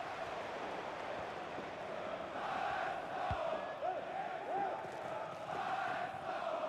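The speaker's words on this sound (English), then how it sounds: "The crowd certainly thinks so. Just listen to them." Distant stadium crowd in the FIFA 22 video game, a steady roar of cheering and chanting swelling slightly midway, with faint whistles and a brief low thud; no one talks over it.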